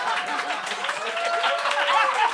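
A studio audience applauds, a continuous wash of clapping and crowd noise with some chatter mixed in, steady throughout the short stretch.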